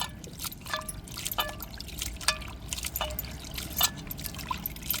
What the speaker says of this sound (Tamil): ராலையெல்லாம் நல்லா உரிச்சு எடுத்தாச்சு அலசி எடுத்துக்கிடுவோம்